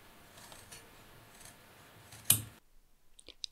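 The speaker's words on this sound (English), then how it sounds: "Trim up at the waistline." Scissors trim denim jeans fabric at the waistline. Quiet rustling is followed by one sharp, close snip and then a few faint clicks of the blades, with no voices.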